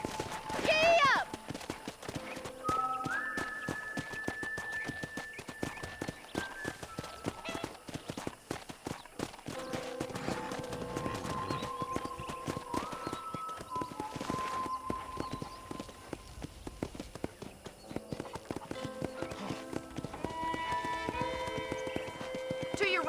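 Horse hooves clip-clop steadily as a rider trots through a ranch in the video game Red Dead Redemption, with a horse whinny near the start, under ongoing game music and a speaking voice.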